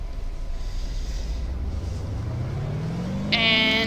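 Car engine in the BeamNG.Drive driving game revs up steadily from a standing start on a test track, its pitch climbing over a continuous rumble before a bright whine near the end.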